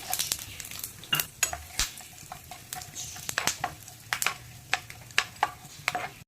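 Mustard seeds and about ten broken cashews fry in oil with a soft sizzle. Sharp clinks and scrapes of a spoon against the pan come through at an irregular rhythm, and no one speaks.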